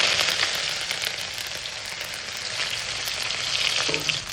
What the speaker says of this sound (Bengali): এবার এই থেতো করে রাখা আদাটাও আমি দিয়ে দিচ্ছি